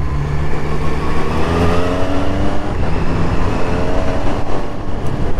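Loud, close engine roar of a 2019 Triumph Street Triple RS motorcycle accelerating hard, pitch climbing in repeated rising sweeps as the quick shifter snaps through gears without a break, wind rushing underneath.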